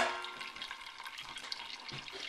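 Wort trickling from the mash during sparging for a dry malt extract nut brown ale, a steady close splashing, dripping stream with faint clatter and no talk.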